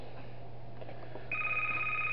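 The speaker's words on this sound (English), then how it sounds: "Oh, we got a phone call." A phone starts ringing in the horror video game Five Nights at Darl's, a steady electronic tone that begins partway through over a low droning hum, with no talk.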